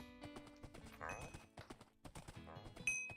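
Horse hooves clip-clop in the Wynncraft video game, a quick run of light, rhythmic hoof steps at moderate volume with a short chime near the end.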